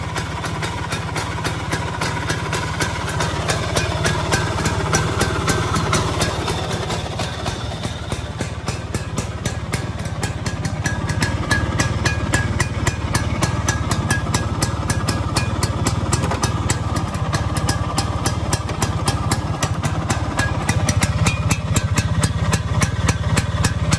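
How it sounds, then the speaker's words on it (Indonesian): Vespa Exclusive scooter engine idling smoothly at low speed, a steady fast-ticking putter held close and constant for a long stretch with no voices. "Mesinnya lumayan halus, langsam juga."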